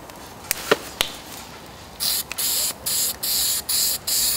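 An aerosol can of fireproof paint sprays in a series of short hissing bursts, five or six evenly spaced, preceded by a few faint clicks and taps.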